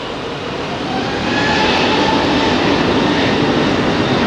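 An airliner bound for Funchal takes off from Heathrow runway 27R, a broad continuous engine roar building in strength over a few seconds with no voices.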